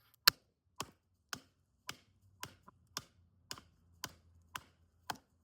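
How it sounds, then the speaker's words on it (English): A Shade Indonesia Trench SOK tool chops a hard, old, dry dead log, striking in a steady rhythm of about ten sharp, crisp cracks, each one close and distinct against near silence. "I have this hard, old, dry, dead log here. Let's chop it in half."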